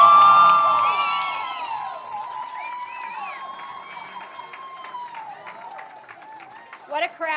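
A gala crowd at a fall ball fundraiser claps and cheers a welcome, with whoops and shouts up front, while a voice talks over the fading applause and sings or calls out near the end.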